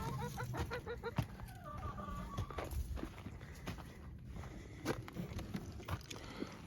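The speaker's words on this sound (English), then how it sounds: "we've got one hen in here that is broody" A broody hen clucks inside a homestead chicken coop, a rapid run of close clucks followed by scattered softer calls, with scratching and shuffling movement around it.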